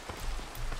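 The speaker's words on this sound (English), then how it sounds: "Of course it's raining." Rain falls steadily in the Minecraft video game, a dense, even patter filling the short stretch on its own.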